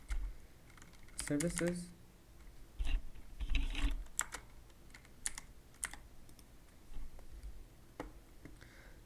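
Light, close keystrokes on a computer keyboard in short irregular bursts, with a brief spoken word early on and faint mouse clicks scattered between the taps.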